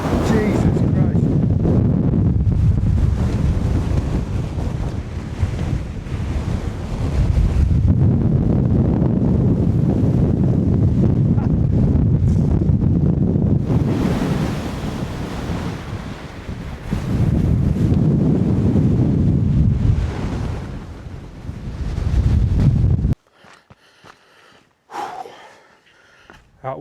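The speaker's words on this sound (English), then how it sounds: "I think that's probably the strongest wind I've ever felt in my life" Very strong wind roaring across an exposed hilltop on a walk up Pendle Hill, buffeting the microphone in loud, sustained gusts that rise and fall for over twenty seconds before cutting to a brief, quieter stretch.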